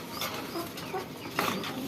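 Chickens cluck softly in a pen that also holds pigeons, a few short calls standing over a faint, busy background with no talk.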